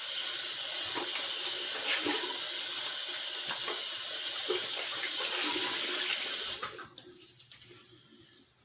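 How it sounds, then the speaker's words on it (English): Cold water runs steadily from a bathroom sink tap in a broad, constant hiss, close and loud, before cutting off abruptly near the end and leaving a quiet room. "I'm getting some cold water going"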